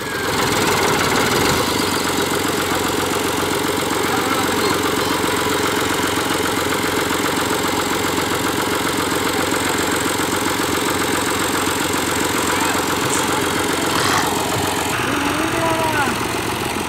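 A Ghazi tractor engine that has got stuck runs loudly and continuously close by, a steady vibrating diesel-like chug that persists throughout, with brief talk underneath.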